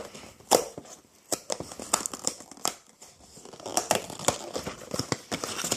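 A plastic package of powdered donut-making mix is torn open close up, giving a run of sharp crinkling and ripping bursts spread irregularly across the clip, with loud crackles between quieter rustling and no speech.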